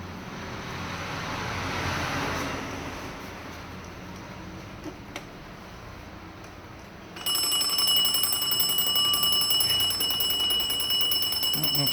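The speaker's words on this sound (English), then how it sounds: "when the alarm goes off, we'll move this so the alarm goes off" An illuminated alarm clock from 1870 sits quietly with faint handling noises before its alarm bell bursts into a continuous, bright, close ringing that lasts several seconds.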